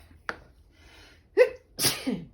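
A single sharp sneeze with a quick intake of breath before it, close and fairly loud in a quiet room.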